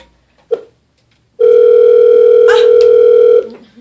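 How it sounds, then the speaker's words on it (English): An office telephone gives a short click, then one loud, steady electronic tone that holds for about two seconds before cutting off, with no voices. "This phone has not stopped ringing."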